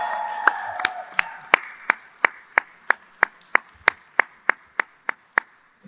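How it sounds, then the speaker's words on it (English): An audience at a fan meetup with actor Ram Charan claps in unison: about seventeen sharp, evenly spaced claps at a steady, brisk beat, fairly close and alone, after a brief moment of faint background voices. "So, big round of applause and big congratulations."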